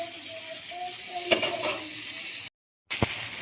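Sliced tomatoes and garlic fry in oil in a pan for tomato chutney, a close steady sizzle with stirring scrapes, a brief break in the sound, then the sizzle returning loud.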